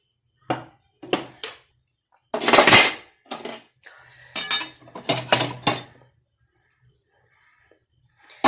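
Rava upma preparation at a hot kadai, with loud metallic clanks and scraping as the pan is handled and oil swirled around it, several separate bursts close up, then quiet.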